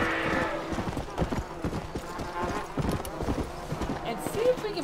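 Horse hooves in Red Dead Redemption: Undead Nightmare clip-clop in a steady trotting rhythm, close and distinct, with a faint whinny near the end and a voice talking over them.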